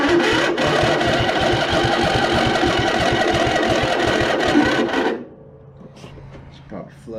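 Old barn-find riding mower engine running with a rough, rapid rasping chug for about five seconds, then cutting off, leaving faint clicks and background noise.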